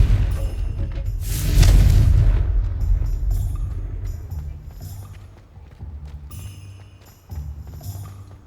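A Confringo fire spell bursts in Hogwarts Legacy with one loud, deep boom that swells and fades over about two seconds. Scattered impacts and game sounds follow.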